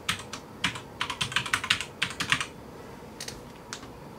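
A password is typed on a computer keyboard in short bursts of crisp key clicks, close and clear, pausing briefly then finishing with a few isolated taps; no one speaks.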